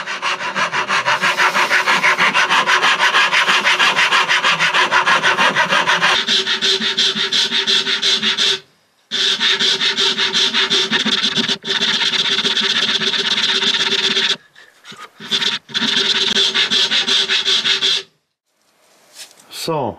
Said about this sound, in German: jetzt habe ich das mit der Feile hier soweit bearbeitet